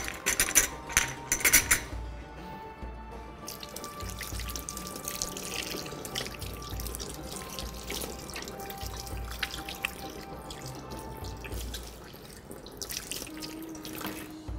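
Hands being washed under a running kitchen tap, water splashing and trickling steadily at close range, with a few clinks of items being moved and handled around the sink.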